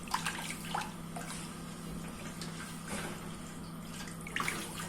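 Water poured into a pot while cooking bechamel pasta, a soft steady trickle and splash heard quietly against a low kitchen hum, with no talking.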